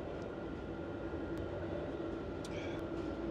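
Sleeper train running from Montreal to Halifax through a train yard, a steady low rumble of wheels and car noise heard from inside, with a few faint clicks and squeaks on top.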